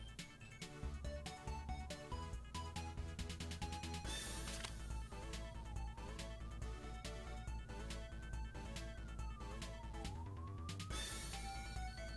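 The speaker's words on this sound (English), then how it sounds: "That's 3 vehicles with 3 different sirens." Three emergency vehicles sound different sirens at once, wailing and yelping over one another with rising and falling sweeps and fast warbles, loud and continuous throughout without talk.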